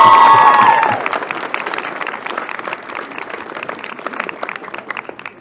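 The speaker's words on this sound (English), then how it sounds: "A big round of applause." Crowd applause breaks out right after a speaker's voice at a club celebration speech, a dense, lively patter of many hands that holds steady and fairly loud to the end.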